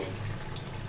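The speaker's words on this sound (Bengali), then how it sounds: "একটু পানি দিলাম।" Water pours steadily into a basin holding fish, a brief continuous splashing rush heard up close.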